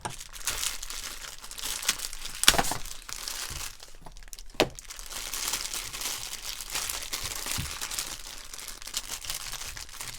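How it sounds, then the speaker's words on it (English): Packing tape being peeled and crinkled off a cardboard product package, a close, steady crackling rip with a few sharper snaps, heard alone. "Let's set these 2 to the side here and see if we get this tape off of here."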